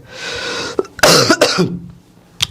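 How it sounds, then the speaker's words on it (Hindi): Several harsh coughs and throat-clearing bursts from a man with a heavy throat, close and loud, spread across a couple of seconds with short pauses between. "थोड़ा एक दो बार अगर खांसूं तो बुरा मत मान जाना"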